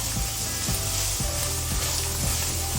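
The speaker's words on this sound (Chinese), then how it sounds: "蒜头下去，好，让它炒一下。" Chopped garlic sizzling steadily in a hot pan while being stir-fried for honey-glazed dried tofu, a continuous close frying hiss broken by soft periodic scrapes of the spatula, with no talking.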